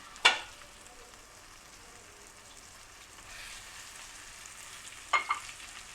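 Fried brinjals tipped into sizzling masala in a pan, a soft steady sizzle with two brief sharp clatters as they go in, the second near the end.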